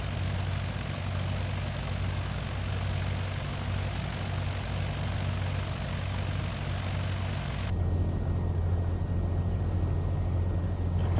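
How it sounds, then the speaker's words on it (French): Propeller airplanes take off at Chambéry airfield, a steady engine drone and airscrew roar heard from inside another aircraft's cabin with its own constant engine hum, the sound changing character abruptly partway through, with no one talking. "2 avions qui partent"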